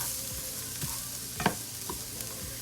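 Food frying in a one-pot meal: a steady close sizzle of hot oil with occasional scraping stirs and light clinks of a utensil against the pot, no voices.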